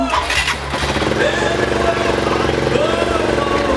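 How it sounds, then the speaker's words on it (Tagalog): A Rusi Flash 150 motorcycle engine turns over and catches, then runs with a loud, rough, steady rumble close by. "umaan daw na yung motor natin, guys wala na siyang problema"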